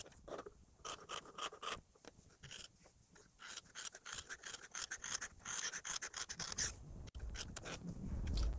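Scissors snip through the seam allowance of a linen jacket, a run of close, crisp cutting and rasping strokes with brief pauses, alone and near.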